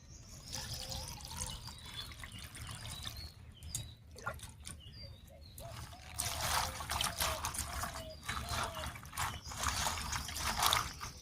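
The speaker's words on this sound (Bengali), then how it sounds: "এবারে জল পাল্টে পাল্টে পরিষ্কার করে ধুয়ে নেব।" Leafy greens washed by hand in changing water, with soft splashing and trickling, light clatter of handling, and a few louder swishes toward the end, close and fairly quiet.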